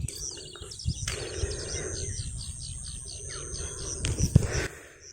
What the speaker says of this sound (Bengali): শুধুমাত্র নানা রকমের পাখির শব্দ